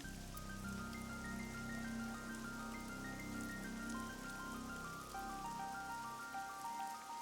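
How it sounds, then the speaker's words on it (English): Steady rain falling in a scene from the video game AI: The Somnium Files, a dense continuous patter mixed with soft game music tones, no talking. "It's raining."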